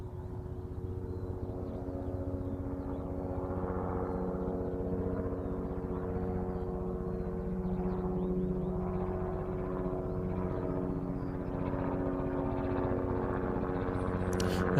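Aircraft at East Midlands airport with a steady, droning engine hum and tonal whine, moderately loud and unchanging, swelling slightly toward the end with a faint rattle, and no talking over it.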